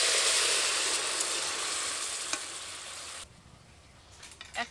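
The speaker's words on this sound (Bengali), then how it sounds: "পেঁপেটাকে কিছুক্ষণ ভালো করে নেড়ে চেড়ে নিয়েছে, একটু ভাজা হয়ে এসেছে" Papaya pieces frying in a pan while being stirred, a bright steady sizzle that fades gradually before dropping off sharply, followed by quieter scrapes and clinks near the end.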